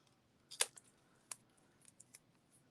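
A few sharp snips of scissors trimming a rubber stamp, with quiet pauses between the crisp cuts and faint handling sounds.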